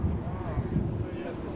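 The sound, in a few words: strong wind blowing sand in Alamogordo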